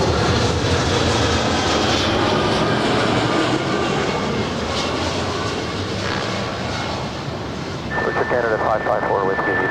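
An airliner lands on runway 24 right at LAX with a sustained jet engine roar. The roar is broad and steady and eases slightly before picking up again near the end, and radio voices talk over it.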